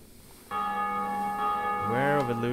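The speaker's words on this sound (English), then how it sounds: "So many bell rings." Bells toll in the video game Dark Souls, a sustained ringing chime that starts suddenly and holds steady, with a second bell strike swelling in near the end.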